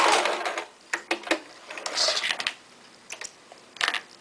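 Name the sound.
sewing machine stitching fabric with a back tack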